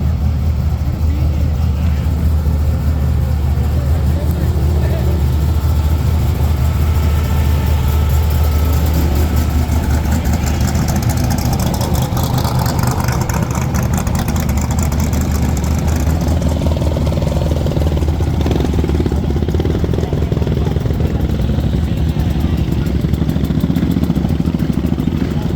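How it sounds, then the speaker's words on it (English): Trophy truck engines at the Mint 400 street festival on Fremont Street, heard as a loud, deep continuous idling rumble with occasional rises of revving, under crowd noise and nearby talking. "I love the way these trophy trucks sound. It's just so aggressive."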